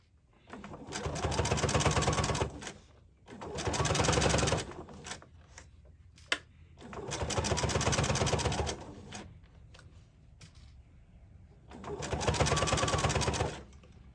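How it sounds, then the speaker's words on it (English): A sewing machine stitches through shirt collar layers in four loud, close runs of rapid mechanical whirring and clatter, each lasting a couple of seconds, with short pauses between them. "Sewing through all layers."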